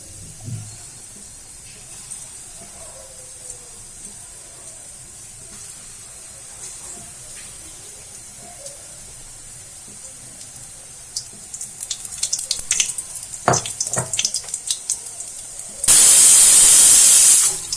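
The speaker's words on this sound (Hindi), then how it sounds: "ये देखिए कुकर में भी सीटी आ चुकी है, दूसरी सीटी आने बाकी है।" A kitchen pressure cooker cooking jeera rice lets out a loud, sustained steam whistle near the end, preceded by faint sputtering hisses and knocks; the rest is quiet room tone.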